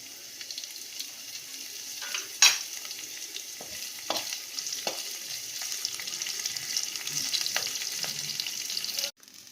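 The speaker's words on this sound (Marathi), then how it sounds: "आता मी टाकतो जिरे. त्यानंतर मिरच्या." Cumin seeds and chillies fry with potatoes in hot oil for sabudana khichdi, giving a continuous sizzle broken by occasional clinks and scrapes of a spoon in the pan.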